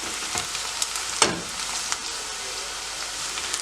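Onions sautéing in a pan for pork curry give a steady, close hiss of frying with occasional soft stirring scrapes and small pops, continuous and without talk.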